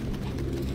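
Pigeons coo in the Detroit: Become Human video game, a brief, close, low murmuring coo with no speech over it.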